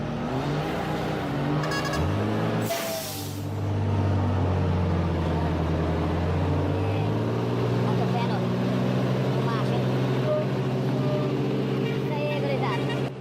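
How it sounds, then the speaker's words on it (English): A Scania 113 timber truck tows a heavy stuck Scania 124 logging truck out with a chain at a forest logging site. Two big diesel engines drone loudly and rev up together under strain, with a brief rising burst early on. "Scania 113 showed its strength when it easily pulled 124 out of the trapped area."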